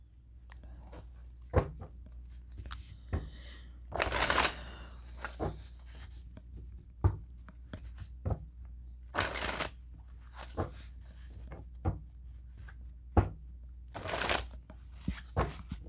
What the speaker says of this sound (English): Let me just pull some cards here.